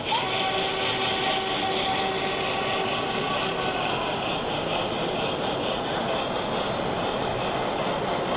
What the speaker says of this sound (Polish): Wszystkie lokomotywy wyposażone w dźwięk, tabor odpowiednio dobrany i zwaloryzowany.